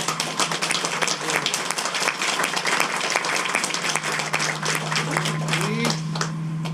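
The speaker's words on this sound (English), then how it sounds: "Another round of applause, please, for Mike." An audience at an outdoor closing ceremony for a field of flags gives a dense, steady round of clapping that goes on for several seconds, with a few faint voices mixed in.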